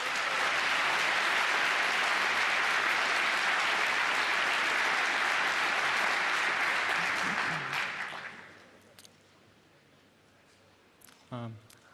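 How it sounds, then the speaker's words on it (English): A conference hall crowd at the 33C3 hacker congress greets presenters of a Nintendo hacking talk with loud, continuous applause for about eight seconds before it fades into quiet room noise and a few stray sounds. "please give them a warm applause"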